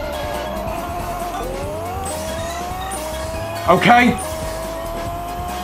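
A car in the Pixel Car Racer video game accelerates with boost, the engine tone stepping up through gears in steady rises, with a short burst of squeal midway and a voice speaking briefly.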